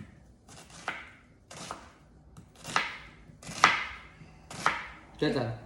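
A knife chops onions on a board for pav bhaji: about six sharp, crisp strikes spaced roughly a second apart, close and clear, with quiet gaps between them.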